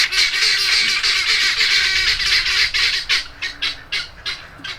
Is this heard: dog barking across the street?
no